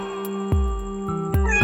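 A cat meows once, clear and close, over a soft steady musical backing with no talking.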